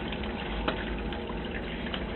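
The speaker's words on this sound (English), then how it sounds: "you can see that water's just pouring in" Water pours steadily into an aquaponics fish tank in a basement test system, a continuous close splashing gush that stirs the surface, loud and unbroken with no voices.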